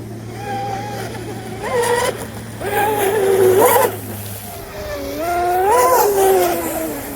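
Twin-motor Deltaforce 29 RC boat with dual counter-rotating 4316 props at full throttle, heard as rising and falling high electric whines in repeated bursts over choppy water noise, fairly close.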